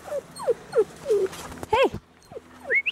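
A puppy found out in the woods gives a run of high, rising and falling whimpers and yips, close and fairly clear, with short gaps between the cries and no talking over them.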